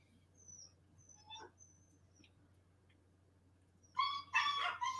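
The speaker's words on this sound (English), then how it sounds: "that's the one you hear whining and screaming in there" A Rottweiler-Akita puppy whines and yelps in a run of high, shrill cries near the end, after a few faint earlier squeaks over a quiet indoor hum.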